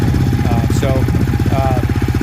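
A 2020 Yamaha Raptor 700R ATV fitted with a full Yoshimura exhaust and Dynojet Power Commander idles nearby, its loud, choppy single-cylinder thump pulsing steadily throughout.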